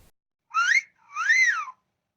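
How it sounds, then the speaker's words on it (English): Two-note wolf whistle: a quick rising whistle followed by a longer rising-then-falling one, clear and alone against silence. "To some, that would be just an ordinary whistle."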